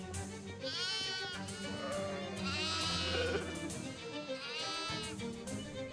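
Sheep bleating in the Shadows Over Loathing video game, a few wavering calls rising over a dense, continuous music and ambience bed, fairly close and moderately loud.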